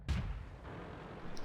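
A tank cannon fires once in World of Tanks, a sharp booming blast with a rolling low rumble that lingers and fades, heard alone and moderately faint.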